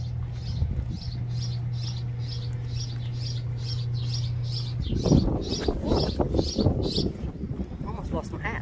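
At a campsite in Prophetstown State Park in May, a bird repeats a quick, high chirp at a steady rhythm. Gusting wind buffets the microphone partway through and partly masks the chirps.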